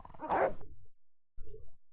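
A dog barks in the Broken Sword: Shadow of the Templars game, one loud close bark followed after a short silence by a softer, lower yip or growl.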